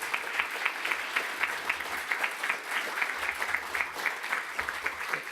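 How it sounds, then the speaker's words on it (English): Audience applause rings out at the Scottish Parliament, a steady, dense patter of many hands clapping with a few scattered cheers, fairly close and continuous for several seconds. "So we can get a big cheer for the presiding officer."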